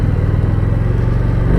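Harley Davidson Street Rod 750 motorcycle on a first ride, its engine a loud, steady low rumble close by, throbbing continuously with no talk over it.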